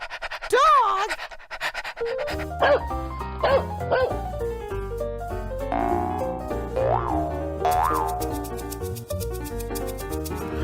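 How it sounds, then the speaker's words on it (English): Cartoon-style dog barks and yips in a children's animal-sounds program, a few short playful woofs popping over bouncy music with cheerful voices around them. "Dog!"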